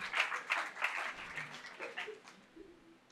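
A church congregation clapping in a short burst of applause, the claps fading after a couple of seconds into faint voices.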